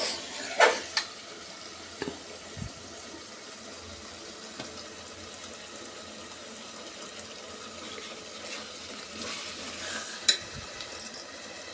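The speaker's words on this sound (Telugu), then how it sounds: "ఇప్పుడు వాటర్ వేసేస్తాం మనం." Water is poured into a pot of chicken biryani with rice, a steady, fairly quiet rush with a few knocks and clinks of the vessel.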